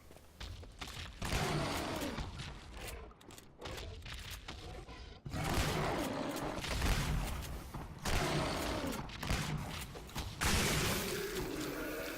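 Rapid shotgun blasts and chaotic combat noise from the video game Shadow Warrior 2, loud and dense, with repeated bursts separated by brief lulls throughout.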